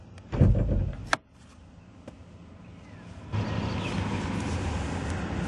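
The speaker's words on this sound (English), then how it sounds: "So you have to open the door there, and then you can pop the hood." Car door on a 2011 Volkswagen Passat opens with a loud clunk, a sharp latch click follows, and then comes a faint click of the hood release against a quiet hum, with no one speaking.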